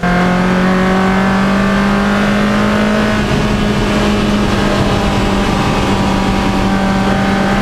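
Race cars at an Anglesey roadsports race, with a loud, close engine howling continuously and its pitch climbing gradually as the car powers on.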